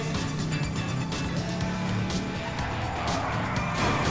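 A car in GTA 5 driving hard with engine roar and tire squeal skidding across the road, loud and continuous for a few seconds.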